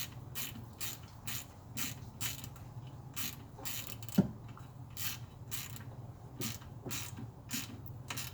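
A ratchet wrench clicks in quick, even bursts while an alternator is changed on a Grand Prix, close and crisp over a low hum, with a single sharp knock midway.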